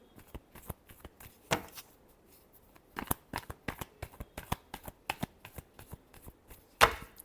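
Tarot cards shuffled by hand in a run of crisp riffling slaps and flutters, close and fairly quiet, with irregular bursts and brief pauses.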